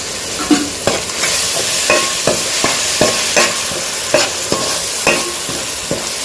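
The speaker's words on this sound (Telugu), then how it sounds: "టమాటా పేస్ట్ అయితే వేసేసుకుంటున్నానండి" Tomato paste frying in a pan for gongura chicken pulao is stirred in steady strokes, about a dozen scraping sweeps rising over a constant close sizzle, with no voices.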